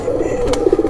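A Kuwaiti teddy pigeon coos close by in a short, soft, throaty burst of low rolling notes.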